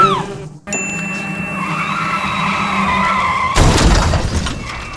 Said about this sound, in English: I said C, car crash